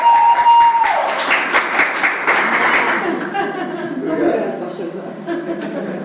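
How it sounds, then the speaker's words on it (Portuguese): A church congregation breaks into a round of applause, with a burst of clapping mixed with chuckles and voices talking, then fading under continued speech. "Uma salva de palmas,"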